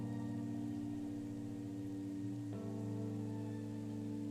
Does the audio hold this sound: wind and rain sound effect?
yes